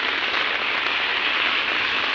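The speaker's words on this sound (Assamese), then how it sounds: "দেখিছেনে কেনেকুৱা বৰষুণ, বা কেনেকুৱা পানী" Heavy rain pours down in Dhemaji, Assam, as a dense, steady hiss of water with no break, loud and close throughout.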